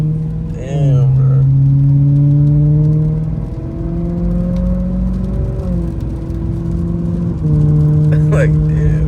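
A BMW F30's engine drones through its exhaust in a driveway, holding a steady, close, resonant note that dips and rises in pitch with a few shifts in revs.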